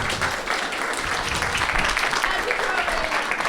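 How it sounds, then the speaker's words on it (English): A round of applause for a volunteer called up on stage at a BronyCAN 2015 convention panel: brisk crowd clapping filling the room, mixed with voices talking over it. "Round of applause for our volunteer"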